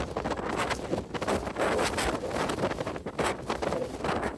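Strong wind gusting outdoors on a high, exposed coastal spot with trees nearby, buffeting the microphone in loud, uneven roaring bursts with no talk.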